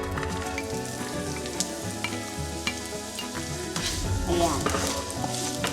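Onion sizzles steadily in a hot pan during stir-frying, a continuous crackling fry with occasional scrapes and stirring clatter from the utensil, close and fairly loud throughout.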